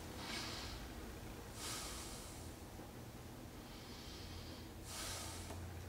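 Several deep breaths drawn in and let out close to the microphone, rushing airy pulses in a slow, steady rhythm, with no other sound.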